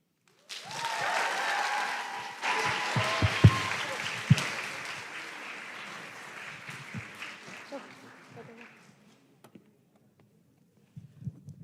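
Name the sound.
audience applause after a performance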